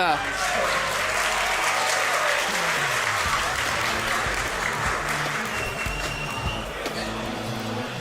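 Crowd applause for the finalists at the Yu-Gi-Oh! European World Championship Qualifier final in Berlin 2025, a steady dense wash of clapping throughout with some voices mixed in.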